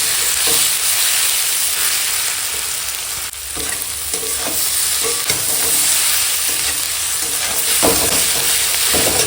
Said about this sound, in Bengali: এবার লবণটা দেখে আর দেব ভালো করে কষিয়ে নেব